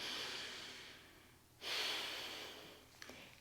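A person breathing in during a yoga flow, with a soft, steady airy inhale close to the microphone, then a brief pause and a second sharper inhale.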